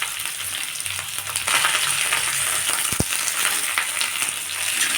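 Cauliflower curry with capsicum and tomato frying in a pan, a steady close sizzle with a brief metallic clink of a utensil partway through.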